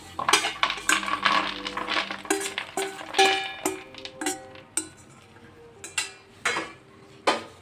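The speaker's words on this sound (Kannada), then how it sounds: "ಸೊ ಇವಾಗ ಖಜು ಕೂಡ ಇದರಲ್ಲಿ ಹಾಕ್ತಾ ಇದ್ದೀನಿ" Cashews dropped into a pan while making a healthy sweet ladoo give a run of sharp, close clinks and rattles, some in quick clusters and others single, with no talking.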